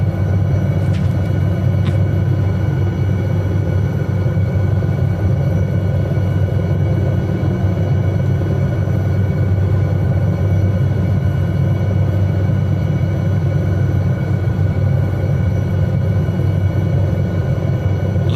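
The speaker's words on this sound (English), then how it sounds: "This helicopter. The more I fly it, the more I love it." An SA315B Lama helicopter in flight over the River Dee near Braemar gives a steady, loud, low rumbling drone that holds evenly throughout, with no talk.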